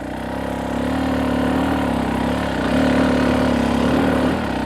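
Enduro motorcycle engine held steady on the clutch at low revs, a continuous close idle-like hum with a slight rise in pitch partway through, alone without talk.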